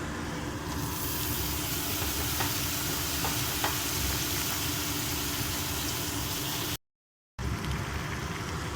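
Ridge gourd fries in a pan with curry leaves for a gourd and moong dal curry, a steady close sizzle with faint stirring scrapes, then a short cut to silence before the sizzling resumes.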